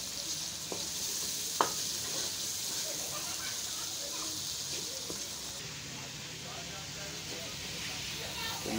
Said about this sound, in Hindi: इसको अच्छी तरह भूनेंगे, मतलब फ्राई करेंगे टमाटर को और मसाले को अच्छी तरह